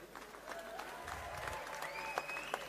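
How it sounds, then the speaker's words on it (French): Faint crowd applause for boxer Rocky Balboa after a boxing match, a steady patter of claps heard from a distance, with a few sharper claps near the end. "Toutes les applaudissements pour Rocky Balboa."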